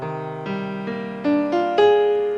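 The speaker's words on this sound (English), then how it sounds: "If you play the flat 13, that would sound something like this." A sustained synth chord builds as notes are added one by one, growing louder and more tense with each new note, ending in a dissonant minor chord with a flat thirteenth.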